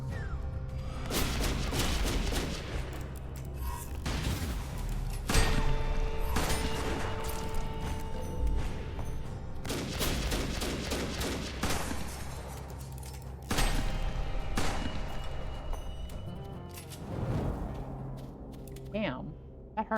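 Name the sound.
shotgun blasts in a video game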